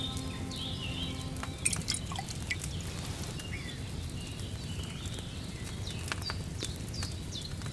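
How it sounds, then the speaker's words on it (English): Liquid pours into a glass vial during potion brewing in Kingdom Come: Deliverance II, heard as soft, faint dripping and trickling over a steady low ambient bed with scattered birdsong and no talk. "Here's a vial. Yeah, let's pour it in."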